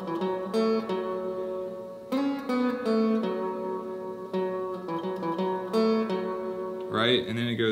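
A short electric guitar fill from a song: clean, bright picked notes in quick phrases with small pauses, close and clear, ending in a brief busier strum.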